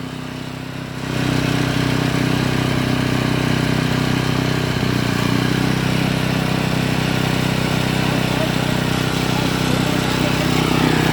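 A small motor tiller starts up after a second of quieter sound, then runs loud and steady at close range with a constant droning, rattling engine note that holds through the rest.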